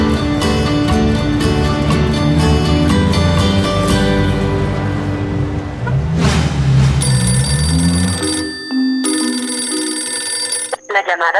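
A telephone rings repeatedly in a Mexican telenovela scene, a loud tonal ring over a musical score that shifts partway through, with no speech.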